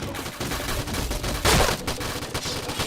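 Gunfire in the video game PUBG: rapid repeated shots crackle in quick succession, with one louder, sharper blast near the middle, close and dominant with no talk.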